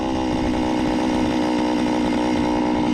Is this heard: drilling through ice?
yes